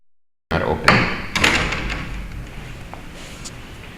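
Locked doors in a building pushed and rattled, a sharp thud near the start, another knock a moment later, then a low clattering rumble that fades out.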